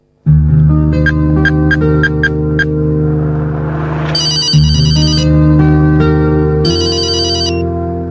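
A telephone rings in a Telugu comedy drama film: a loud, close electronic ringtone of repeated bright tone bursts over a sustained chord, running continuously with no voices.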